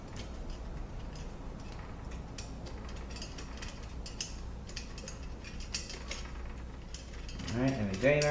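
Ratchet backing bolts out of a VW 010 transmission, a steady stream of fine mechanical clicking and metal rattling throughout, with a voice speaking briefly near the end.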